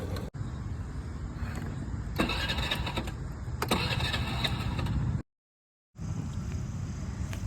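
A car engine cranks with a steady churning whir, rising in bursts, then abruptly cuts out into brief silence before the whirring returns near the end. The sound is close and loud, with no voices.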